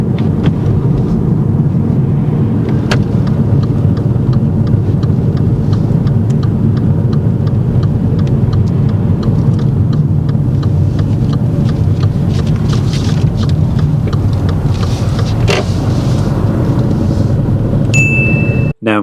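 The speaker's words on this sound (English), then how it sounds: "When approaching this turn, Tad selects second gear and slows the car down before checking her mirrors and signalling." A car slows on approach to a turn during a driving test, a steady loud engine and road drone throughout with a faint ticking indicator near the end.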